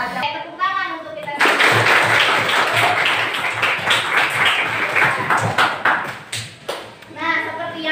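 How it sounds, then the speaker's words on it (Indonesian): Classroom of students clapping hands together during an eighth-grade lesson, a sustained burst of loud clapping framed by a teacher's voice speaking before and after. "Tepuk tangan untuk kita."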